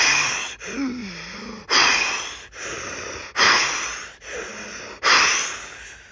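Deep, deliberate breaths during a breathing exercise, about five long, loud inhalations alternating with softer exhalations, each rush of air strong and close, with a faint hum under one breath.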